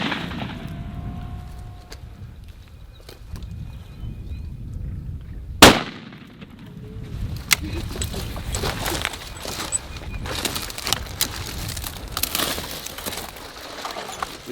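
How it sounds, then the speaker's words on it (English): A single sharp rifle shot cracks out loud and close amid rustling and faint background voices during a lion hunt in the Kalahari, followed by scattered handling knocks. "Ek het hom nog een keer in die bors geskiet daar"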